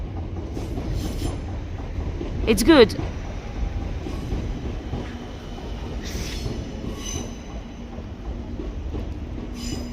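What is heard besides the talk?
train passing overhead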